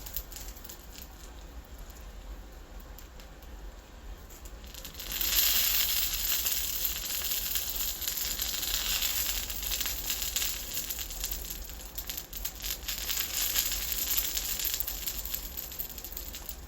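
Eggplant frying in a pan: a steady hiss and sizzle that starts soft, then swells to a louder crackling patter about a third of the way in and keeps going, with no talking.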